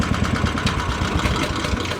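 A Wilcraft utility vehicle's small engine runs steadily just after starting, a close, loud, evenly pulsing putter with no talk.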